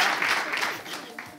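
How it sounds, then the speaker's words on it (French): Short burst of crowd applause at an evening event with an animator hosting, bright clapping mixed with talk, fading slightly over the brief moment. "Ça s'applaudit, mon frère."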